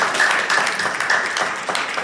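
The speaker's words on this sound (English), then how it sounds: "Clap hands for yourself." At a youth winter camp gathering, an audience claps its hands for itself. The dense, lively clapping is loud and close and runs steadily for about two seconds.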